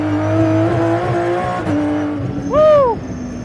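A McLaren P1 GTR race car on a track: a loud, steady engine drone that shifts pitch, then a brief rising whine near the end, heard up close with no talk.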